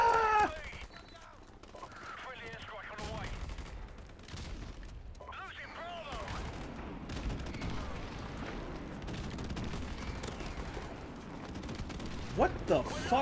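Airstrikes in the video game Modern Warfare: a dense run of distant booms and rumbling explosions with some mechanical rattle, moderately loud and continuing through most of the stretch, while a player exclaims over them.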